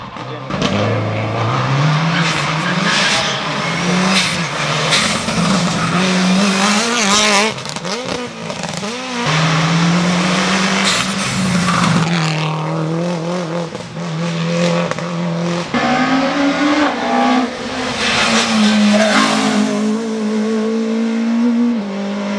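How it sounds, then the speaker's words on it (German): A Subaru rally car engine roars and revs hard with rising and falling pitch, tires squealing as it races past close and loud at a hill climb. "Ein guter Kurs für den Marc Zenners, 51. mit seinem neuen Subaru"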